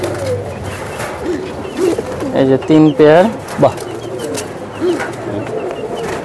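White pigeons cooing in short throaty bursts amid light bird chatter, close and fairly loud, with someone speaking briefly between the calls.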